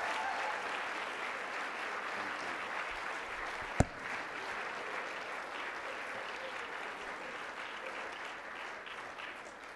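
Sustained audience applause fills a UMass Boston campus celebration hall as alumna Gina McCarthy is welcomed to the stage, a steady dense wash of clapping at even volume with one sharp thump partway through.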